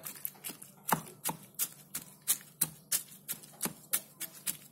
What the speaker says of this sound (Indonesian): Udangnya kita potong halus-halus